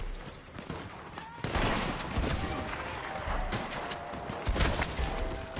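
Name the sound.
gunshots in Red Dead Online video game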